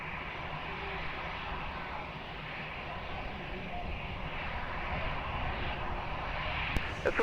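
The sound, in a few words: airplane taking off at Lisbon Airport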